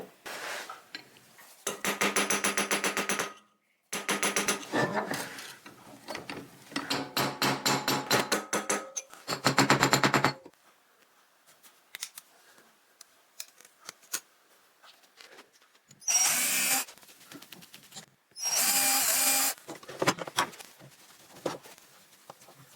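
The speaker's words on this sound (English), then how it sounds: "I'm just going to try and shear that." Sharp metallic snips and clanks come in bursts as shears cut a hole through a perforated metal panel, with quiet gaps between the cutting strokes.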